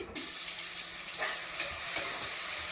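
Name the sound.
onion frying in oil with biryani masala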